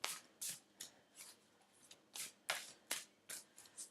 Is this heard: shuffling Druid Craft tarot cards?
yes